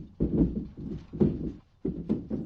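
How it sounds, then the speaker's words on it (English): Furniture shaking and rattling during an earthquake: three loud, low, rumbling bursts of knocking and clattering, each lasting about half a second with short gaps between, close and with no voices. "That's the sound of furniture shaking in an earthquake"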